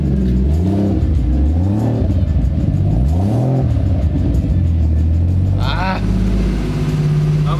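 A Nissan Skyline R34 engine idles loudly up close and is revved several times, each rev rising and falling in pitch before it settles to a steady idle, with voices talking over it.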